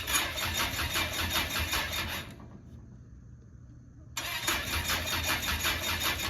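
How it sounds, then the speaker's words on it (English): A turbine aircraft engine cranks on a maintenance training ramp with its rotor blade disconnected. It makes a loud, steady whine and rumble that briefly drops to a quieter hum and then surges back up. "working on starting up this engine"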